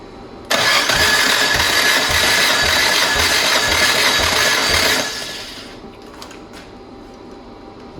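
Nissan Juke engine cranking over for a compression test, a steady loud rhythmic churn of the starter turning the engine for about four and a half seconds, then cutting off to a quieter low hum.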